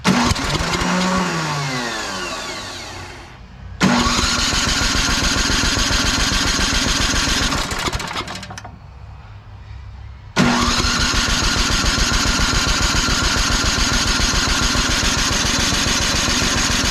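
A Craftsman 27-inch snowblower engine with starting trouble cranks and catches, running loudly with a steady mechanical drone that cuts out briefly twice and then restarts, continuing at full volume.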